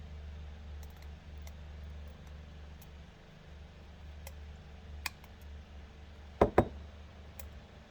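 Small snips cut component leads on a circuit board, giving two quick, sharp clicks close together near the end over a low steady hum, with a few faint ticks earlier and no talking.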